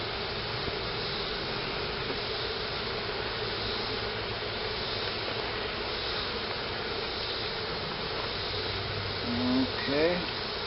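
Bees buzz around a beehive in a steady, dense drone that fills the whole stretch without a break, with a faint brief tonal flutter near the end.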